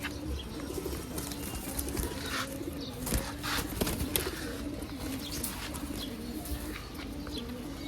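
Army pigeons coo in a steady, repeating low rhythm close by, with occasional chirps from other birds and a few wing flaps in the background.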